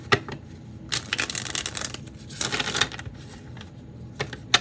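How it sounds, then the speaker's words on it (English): Oracle cards are shuffled by hand in quick, close riffling bursts with soft pauses between them, no voices present. "Let's first get a couple of oracle cards."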